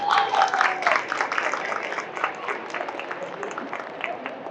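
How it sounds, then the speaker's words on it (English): A convention crowd at a panel gives a round of applause, strongest at the start and then tapering into softer scattered clapping as voices begin talking over it. "So round of applause one more time."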